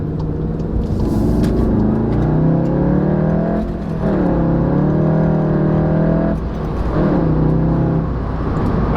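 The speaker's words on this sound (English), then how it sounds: "Alright, so the car definitely pulls better." A VW MK7 Golf GTI fitted with a pedal tuner accelerates hard, its engine droning loud and continuous from inside, with the pitch climbing and dipping through gear changes.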